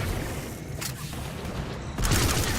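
Machine pistol gunfire in the video game Mass Effect 3, a dense, continuous rattle of rapid shots over heavy background combat noise, swelling louder near the end.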